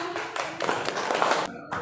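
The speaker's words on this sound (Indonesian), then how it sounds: "Luar biasa Dea, beri tepuk tangan." A classroom of students claps for a classmate, a short, dense burst of hand-clapping that rises quickly and fades after under two seconds, with a faint tonal sound near the end.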